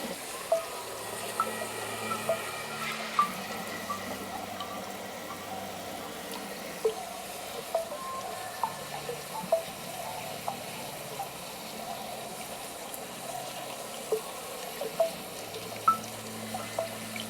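Water is poured into a houseplant pot, giving a quiet, continuous trickle with scattered small drips and splashes throughout, soft and close.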